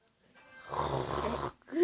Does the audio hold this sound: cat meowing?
no